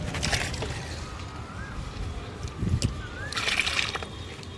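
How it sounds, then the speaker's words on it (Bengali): Water poured from a bucket onto the soil of a plant pot, a few soft splashes and sloshes at close range over steady background noise. "এই যে এক বালতি করে করে জল দিই যাতে ভর্তি হয়ে যায়"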